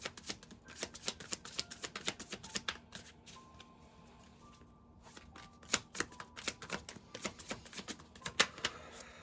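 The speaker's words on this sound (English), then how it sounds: "Now we're going to continue shuffling" Tarot cards are shuffled in quick crisp riffles and taps, a brief pause, then more rapid shuffling, close and fairly quiet.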